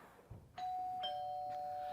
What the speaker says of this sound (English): That's your bell. Aren't you going to get it?